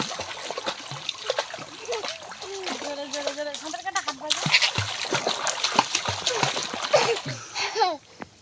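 Children splash and thrash in a village pond while learning to swim, with loud close splashes and dribbling water, mixed with excited children's voices and adults talking over the noise.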